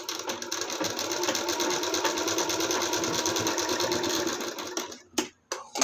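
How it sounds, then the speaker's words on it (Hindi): A sewing machine stitching a hook strip on an embroidered blouse, a fast steady whirring run for about five seconds, close up, then stopping with a few brief knocks. "इसके ऊपर से एक एक सिलाई चला लेते हैं।"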